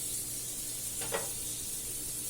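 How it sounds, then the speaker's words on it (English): Paneer cubes shallow frying in about a tablespoon of butter in a pan, a steady close sizzle with a brief stir in the middle. "shallow fry these paneer cubes"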